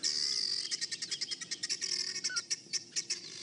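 Guinea fowl alarm calling at lions on a morning safari drive: rapid, harsh, repeated chattering calls in a steady pulsing run, close and fairly loud, with no talk.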